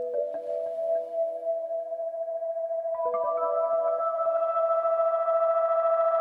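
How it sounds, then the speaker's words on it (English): A burst echo effect from Maschine MK3 Perform FX repeats synth tones in stacked, sustained echoes that build into a steady layered drone, loud and without talk. "So burst echo, quick, easy."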